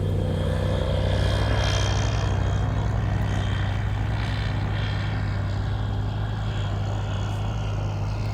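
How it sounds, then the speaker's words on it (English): A small bush plane begins its takeoff roll on a short airstrip with one notch of flaps set, its propeller engine a loud, steady drone heard from inside the cockpit. "So this is my second takeoff on pucker. One notch of flaps."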